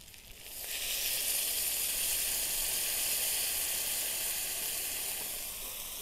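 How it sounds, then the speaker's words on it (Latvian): Vegetables fry in a pot for a picnic soup outdoors, a loud, continuous sizzling hiss that swells up after the first second and holds steady throughout. "Kamēr cepās dārzeņi otrā katlā"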